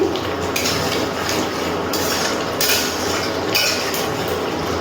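Prawn curry in thick yogurt gravy being stirred in a pan, a continuous loud scraping and clinking of a utensil against metal with a few sharper accents, close by and without talking.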